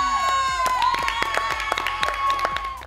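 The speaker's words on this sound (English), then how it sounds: "I think this week needs a bit of a round of applause because you're now in double digits." A small crowd cheers and claps, with sharp scattered handclaps and whoops over a bright sustained tone, lively and fairly close for a few seconds.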